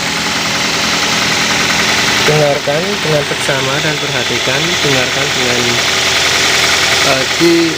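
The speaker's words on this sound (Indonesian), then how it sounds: "selanjutnya mesin sudah menyala. Kita cek suara mesin." A cold used-car engine idles with a steady, even rumble and faint knocking throughout while someone talks over it in Indonesian.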